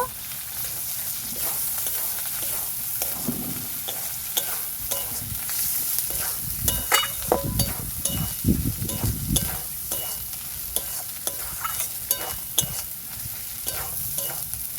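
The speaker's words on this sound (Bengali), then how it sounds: "ভালো করে মশলাটা আমি কষিয়ে নেব।" Spice paste sautéing in a pan for meat khichuri, a continuous hissing sizzle broken by frequent scraping and knocking strokes as it is stirred, with a thicker bubbling, sputtering stretch in the middle, all close up.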